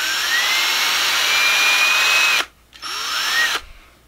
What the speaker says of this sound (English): So I'm going to cheat by using an electric drill.